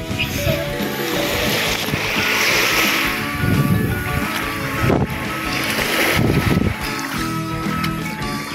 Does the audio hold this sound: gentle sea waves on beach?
yes